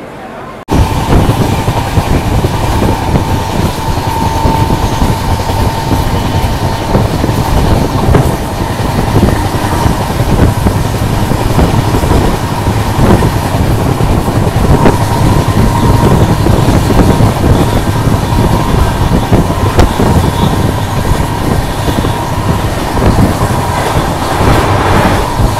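A double decker express train from Mumbai to Surat runs at speed, its loud steady rumble and rhythmic wheel clatter filling the whole stretch from close by.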